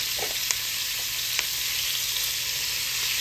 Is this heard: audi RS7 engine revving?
no